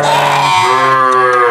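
A ewe sheep bleats loudly and close by, one sustained wavering call that shifts pitch midway, heard alone with almost no other sound.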